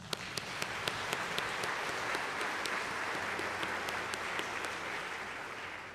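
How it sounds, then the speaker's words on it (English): A church congregation claps in a sustained, dense round of applause, with sharp individual claps standing out near the start before settling into an even wash that eases off slightly toward the end. "And I clap for you."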